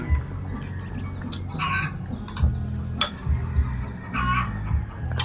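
Roosters crow and hens cluck at moderate distance, with scattered bird chirps and a faint steady hum in the background.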